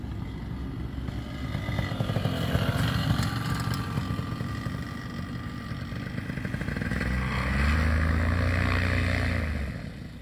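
An ultralight trike aircraft comes in to land, its engine and propeller droning steadily throughout, then swelling louder and deeper as it passes close near the end, with no voices.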